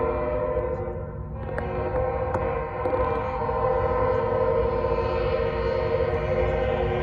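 A Norfolk Southern freight train rumbles steadily past at close range, a continuous loud roar of engines and rolling wagons with faint clanks, and no voices.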